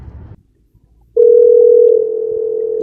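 A steady telephone dial tone starts abruptly after a brief moment of near silence and then holds loud and unbroken, following a short low rumble at the start.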